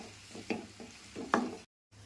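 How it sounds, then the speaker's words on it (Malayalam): Clams tossed with salt and turmeric are stirred in a pan, giving soft scraping strokes and a couple of sharper clinks over a low sizzle, close and fairly quiet. "അതിനുശേഷം കുറച്ച് ഉപ്പും മഞ്ഞൾപ്പൊടി ഇടുക ഇട്ട് നന്നായി ഇളക്കി കൊടുക്കുക"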